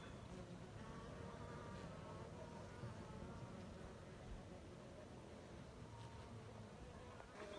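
Honeybees cluster inside a wintering hive of about seven frames, giving a soft, low, continuous hum with faint background noise.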